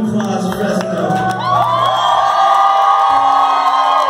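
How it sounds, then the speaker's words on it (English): Concert crowd at Strummer's in Fresno, California, cheering and whooping loudly after a rock cover set, voices swelling into a sustained roar with shouts on top. "A round of applause for us."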